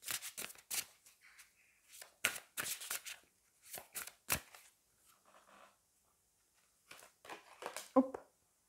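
Tarot cards are shuffled and drawn close up, with dense runs of crisp riffling and flicking rustles, then a short pause and a few sharper card snaps near the end.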